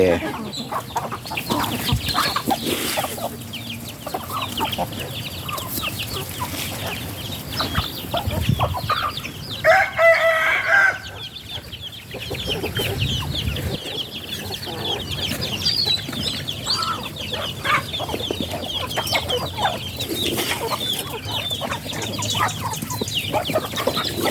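Chickens cluck and call near a farmyard after flooding, with a rooster among them; faint scattered calls over steady outdoor background noise, with people talking at times.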